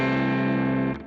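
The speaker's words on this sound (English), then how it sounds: "I started out with this kind of power chord shape" A distorted electric guitar strikes one power chord shape in a Midwest emo style, with the other open strings left ringing. The big, buzzing chord sustains loudly for about a second, then is cut off abruptly.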